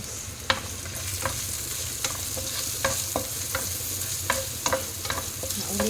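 Garlic stir-fries in a pan with sayote and small dried shrimp, producing a constant sizzle broken by repeated sharp scrapes and clacks of a spatula against the pan at an irregular pace.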